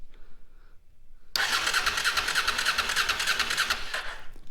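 A Honda Africa Twin motorcycle engine cranked over by the starter after a quiet moment, a rapid, even churning whir that starts abruptly and continues close up without catching.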